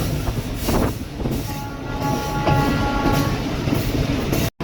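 A passenger train rolling toward Kashiani Junction station, heard from on board as a loud continuous rumble with rattling carriages and a faint thin wheel squeal partway through.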